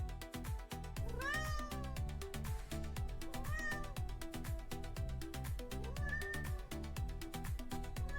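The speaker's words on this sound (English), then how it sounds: "C is for cat, soft and small." A cat meows several times in a children's alphabet song, with short rising mews over a steady, bouncy musical backing beat.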